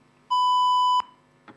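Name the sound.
debate timer buzzer signalling end of speaker's time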